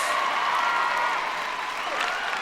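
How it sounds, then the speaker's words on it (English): A stand-up comedy audience at Ball State University breaks into applause, a dense steady roar of clapping and crowd noise that holds loud throughout. "I appreciate the incredible, thunderous round of applause"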